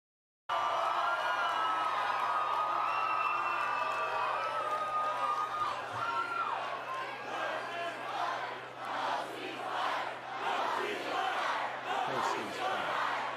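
A large crowd at a political speech roars with cheers, whoops and shouting voices, starting abruptly and swelling into a rowdier, surging roar toward the end.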